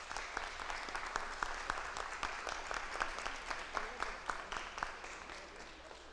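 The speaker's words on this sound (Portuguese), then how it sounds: "dar uma salva de palmas também como uma expressão de carinho com a Lara" A church congregation applauds during a service, giving a steady round of clapping with distinct, evenly spaced claps at moderate distance, continuing throughout and tapering slightly at the end.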